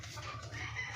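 A chicken clucks in short, faint repeated pulses, low and soft in a quiet outdoor setting, with no voices present.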